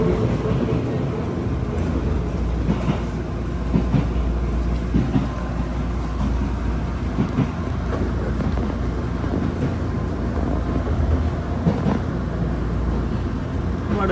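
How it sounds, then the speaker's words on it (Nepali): Hakone Tozan Railway mountain train running in Japan, with a steady low rumble and rolling rattle heard from on board, continuous throughout with faint occasional clanks. "पाहाडमा ट्रेनमा त जाने रहेछ"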